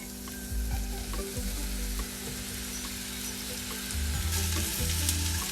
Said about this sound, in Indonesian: Tuang olive oil sedikit aja untuk menumis mushroomnya